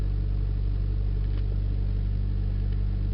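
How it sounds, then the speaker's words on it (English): A car engine idles while warming up, a steady low hum with a faint even throb, heard close and alone without any talk. "letting the engine warm up a bit"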